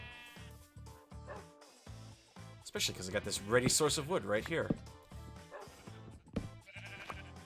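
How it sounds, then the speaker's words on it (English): Sheep in the Minecraft video game bleat several times in a wavering, close cluster while someone talks over them, with blocky game sound effects around. "And sheep just willing to throw themselves at me so I can get their wool."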